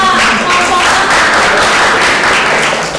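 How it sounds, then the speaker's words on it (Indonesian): A classroom of vocational students applauding a group, a dense burst of clapping that carries steadily for a few seconds at fairly close range, with faint voices underneath. "Tepuk tangan dulu untuk kelompok 2"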